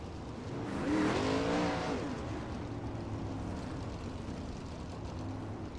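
A 410 winged sprint car roars past at the Kokomo track, its engine rising to a loud peak near the start and fading into a steady distant drone of racing engines.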